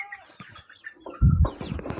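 Chickens clucking close by in a string of short, uneven clucks, with a louder low rustling burst partway through.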